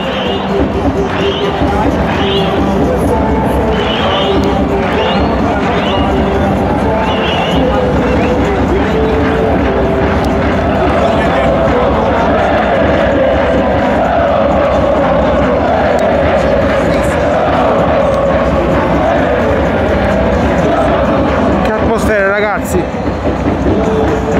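Salernitana football fans and ultras in a stadium during a match against Spezia, a dense crowd roar with chanting swells, heard close and continuous under someone talking nearby.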